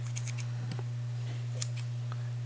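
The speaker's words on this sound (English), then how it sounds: "So now we're going to take our scissors," Scissors trimming excess coil wire on a Kanger Subtank dual coil build: a few faint close snips and clicks, one sharper cut near the end, over a steady low electrical hum.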